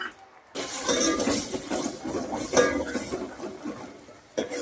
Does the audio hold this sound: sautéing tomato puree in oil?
yes